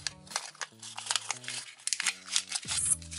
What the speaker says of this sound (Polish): składam moją kartkę